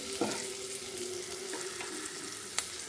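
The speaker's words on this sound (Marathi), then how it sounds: "यामध्ये मी 5 ते 6 लसणाच्या पाकळ्या, 5 ते 6 मिरच्यांचे खुडे, जिरे, हळद मिक्स करून ही फोडणी तयार झालेली आहे माझी।" A tempering of garlic cloves, green chilies, cumin and turmeric fries in hot oil, a steady close sizzle with a few sharper crackles and clinks, and no voices.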